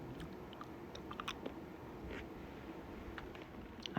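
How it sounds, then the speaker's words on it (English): Close, steady mouth noises of Elizabeth Shaw dark chocolate being chewed, with soft wet crunches and smacks repeating over a few seconds and no talking. "I think the more you keep chewing it, the creamier it gets"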